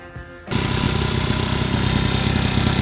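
A 1970s barn-find moped engine catches at about half a second and runs steadily, a close, loud, rough, even mechanical chatter with no voices.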